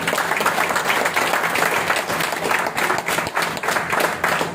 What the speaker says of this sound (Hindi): फिर से एक बार जोरदार ताली बजाओ अपने लिए